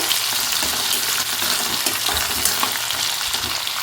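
Chopped mango sautéing in a pan over a low gas flame, giving a steady, close sizzle with soft crackle throughout and no talking.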